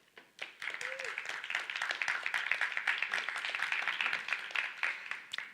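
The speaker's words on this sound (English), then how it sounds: "please, again, a round of applause to Matt" Audience applause for a speaker named Matt at the close of a science conference talk, a dense steady wash of many hands clapping that swells quickly, holds for several seconds and then begins to thin.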